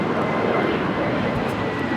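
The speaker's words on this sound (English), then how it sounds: "This is Viva Airbus 623 taking off to Monterrey on an A321 Neo." A Viva Aerobus Airbus A321neo jet takes off from Los Angeles airport, its engines giving a loud, steady, broadband roar throughout, with a voice speaking over it.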